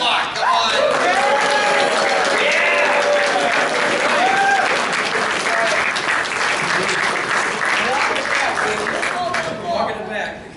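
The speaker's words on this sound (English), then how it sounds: "Please give a big applause." Convention panel crowd giving loud, sustained applause and cheers for voice actors on a Q&A panel, a dense wall of clapping with voices and shouts mixed in throughout, easing slightly at the end.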